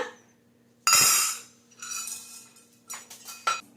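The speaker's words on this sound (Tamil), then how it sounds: "எல்லாத்தையும் நல்லா கழுவிட்டு ஊற வச்சுக்கலாம்." Soaked sorghum grains being washed in a metal vessel: a loud clattering slosh and scrape, then softer rustling and a few sharp clinks against the pot, with no talk.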